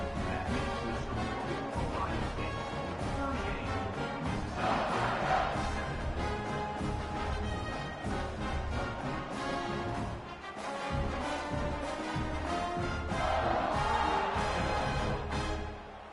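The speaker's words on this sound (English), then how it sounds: "this crowd is buzzing after that last score" A packed football stadium crowd buzzes after a score at a college game between Mississippi State and Ohio State, a loud, continuous roar that fills the whole stretch and swells twice.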